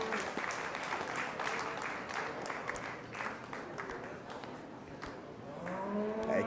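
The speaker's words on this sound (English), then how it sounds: "If we give them a round of applause, these are two pretty nice prospect calves." Clapping from the crowd at a 2019 beef show, honoring two dairy prospect steers, with busy irregular hand claps throughout and some low rumbling underneath, then a voice breaking in near the end.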